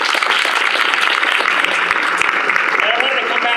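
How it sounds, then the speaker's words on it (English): Loud, sustained applause from a crowd honoring city senior staff at an outdoor Memorial Day ceremony, a dense steady clapping that continues throughout with a few voices mixed in. "let's give a big round of applause for each of them"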